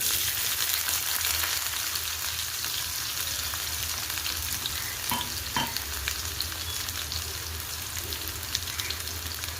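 Finely chopped onion sizzles steadily in a pan with hot oil while cooking chintapandu charu, a tamarind-based dish, making a continuous crackling hiss with a couple of soft stirring knocks and no talking.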